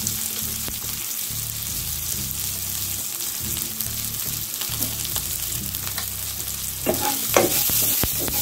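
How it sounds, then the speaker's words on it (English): Onion sautéing with turmeric, salt and chillies in a pan over medium flame for a kidney bean side dish: a continuous close sizzle with an even frying hiss, a few stirring scrapes toward the end, no voices. "Saute this for 2-3 minutes until it gets transparent."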